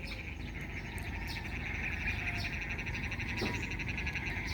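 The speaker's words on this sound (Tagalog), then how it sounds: "Yan yung maingay, yung mga maliliit na ibon." A flock of small, noisy birds chirps together in a rural yard, a dense, steady chatter of overlapping calls with a faint insect-like drone underneath, continuous throughout and fairly close.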